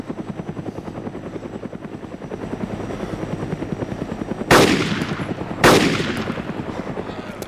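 A helicopter in the video game DayZ Mod drones steadily with a rhythmic rotor chop, joined by two sharp, loud gunshots cracking near the end.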